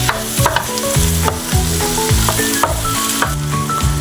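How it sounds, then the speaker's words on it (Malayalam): Chopped tomatoes with turmeric sauté in a pan for tomato rice, giving a continuous close sizzle broken by repeated rhythmic stirring scrapes, with no voices. "നമുക്ക് നന്നായിട്ട് വഴറ്റി കൊടുക്കാം."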